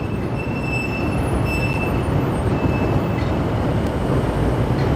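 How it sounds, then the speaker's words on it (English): Trains rumbling on Chicago's elevated rail lines, a loud, steady roar of wheels on track with a faint high squeal running through it, continuous for the whole stretch with no talking. "there's a green line going that way. Trains all around here."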